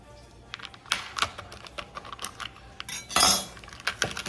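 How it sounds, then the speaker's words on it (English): A knife cuts fresh mozzarella into slices on a board, giving a series of light, crisp taps and clicks with a brief louder clatter near the end; no talking. "we're gonna go ahead and cut this fresh mozzarella cheese into slices"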